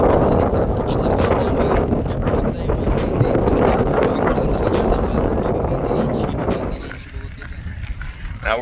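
Strong, roaring headwind buffets the microphone continuously while bikepacking in the mountains of Kyrgyzstan, a loud rushing gust that eases slightly near the end.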